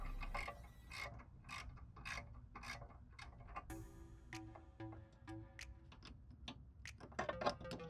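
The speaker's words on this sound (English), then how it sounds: "So I basically reinstalled the two 13mm bolts using the same technique that I used to remove them." A hand ratchet tightens two 13mm bolts on the rear brake of a Volkswagen MK5 GTI, a quick run of close, crisp clicking strokes in steady bursts with a brief metallic clink partway through, fairly quiet.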